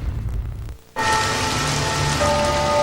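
Rain pours in a TV advertisement: a dense, loud, steady hiss of drops on surfaces sets in after a brief quieter stretch and continues without a break.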